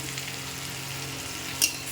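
Steady sizzling of potatoes frying in hot oil, a continuous crackling hiss with one brief sharper spatter near the end.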